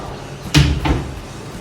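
A cabinet drawer in a furnished apartment is pulled open: a sharp wooden knock, then a second softer slide-and-thud a moment later, close and fairly loud against a quiet room.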